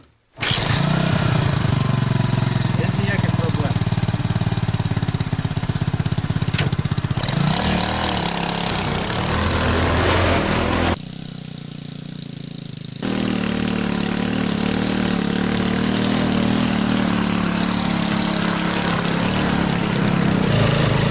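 A homemade tricycle motorcycle engine starts first try and rumbles loudly at close range, running a steady idle with a brief drop in level midway before resuming its even chug.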